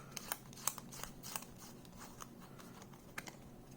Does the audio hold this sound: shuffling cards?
yes